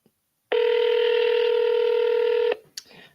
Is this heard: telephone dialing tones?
yes